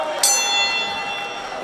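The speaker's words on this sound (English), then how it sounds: "Ring the bell, David." A wrestling ring bell is struck once at a women's wrestling event; a bright metallic clang rings out and decays slowly, while an announcer's voice carries on over it.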